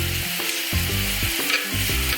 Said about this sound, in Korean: 그러니까 센 불에서 빨리 구워내세요